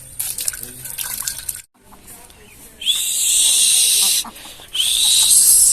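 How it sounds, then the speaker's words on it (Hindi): Leaves are washed in water, with splashing and dripping up close, broken by a short pause, then a bright, steady rush of running water in two bursts. "तो सबसे पहले जो है ना इन पत्तों को हमने अच्छे से धो लेना है।"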